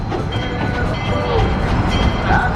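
A Georgetown Loop Railroad train in the Colorado mountains slows into a small station, giving a steady close rumble and rattle of cars with faint squeals, while people talk over it.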